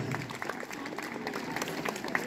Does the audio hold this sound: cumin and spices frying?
no